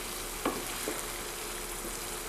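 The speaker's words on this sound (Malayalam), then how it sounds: "ചൂടായ എണ്ണയിലേക്ക് ജിഞ്ചർ ഗാർലിക് ഇട്ട് നന്നായിട്ട് നമുക്ക് സോത്തെ ചെയ്യാം" Ginger and garlic sauté in hot oil in a non-stick pan, making a low, steady sizzle with a couple of faint stirring clicks.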